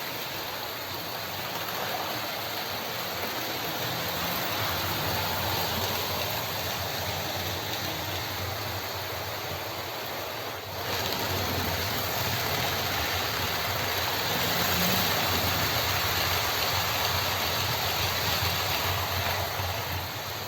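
Hornby Javelin model locomotive weighted with extra lead, pulling 10 coaches at high scale speed, a steady loud whirring rush with a faint rhythmic rumble and a brief dip midway, no talk.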